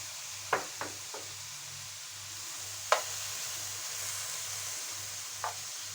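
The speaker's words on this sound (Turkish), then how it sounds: "Görmüş olduğunuz gibi sıcak tencereye atınca etlerimiz anında renk değiştirmeye başladı." Beef chunks searing in a hot pot for goulash give a steady, quiet sizzle, broken by a few sharp knocks and scrapes of stirring early on and again later.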